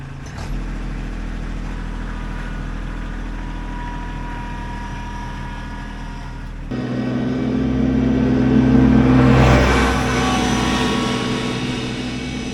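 A Kubota LX2610 compact tractor's diesel engine idles with a steady low drone, then the pitch and loudness rise as it pulls forward, close by and alone.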